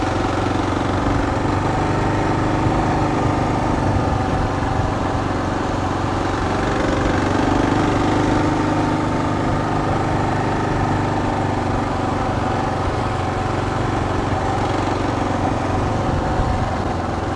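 A Kawasaki KLR650 motorcycle engine drones steadily throughout a ride, a continuous mid-pitched hum at moderate loudness with no talking.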